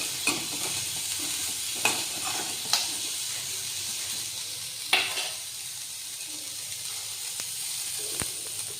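Onions frying in a spoon of oil for river fish sambar, cooked until reddish: a steady close sizzle and hiss with a few sharp clicks from stirring, and no voices.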